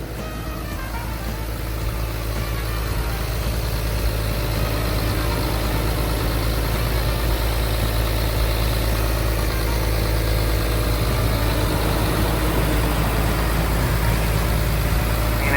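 A Caterpillar 320D 20-ton excavator's C6.4 diesel engine idles nearby with a loud, steady rumble that never changes pace. No one speaks.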